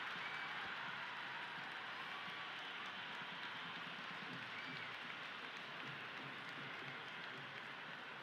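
A stadium crowd in the Cricket 26 video game during a warm-up match between India and South Africa, a continuous dense roar of applause and cheering at a steady level that sits far off in the background.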